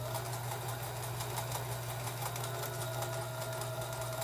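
A Kenmore sewing machine stitches at an even pace, its needle producing a continuous fast mechanical whir and rhythmic clatter up close, with no talking.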